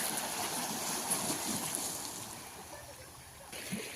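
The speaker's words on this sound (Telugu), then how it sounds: "సముద్రపు కెరటాలు శబ్దాలు చూసారా?" Sea water washes and laps around the German Jetty at Mayabunder on a calm evening, a soft continuous hiss of small waves that eases slightly toward the end, heard alone at low volume.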